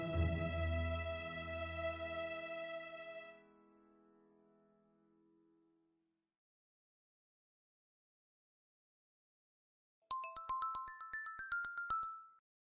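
An incoming call ringtone on a mobile phone, a bright melodic tinkling phrase that plays alone and loud for about two seconds near the end, after a long fading musical tone and silence.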